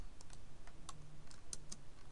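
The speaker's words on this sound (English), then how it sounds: "Then you press Ctrl Shift down your keyboard." Computer keys are pressed in a quick irregular run of soft clicks and taps, close and fairly quiet, with no talk.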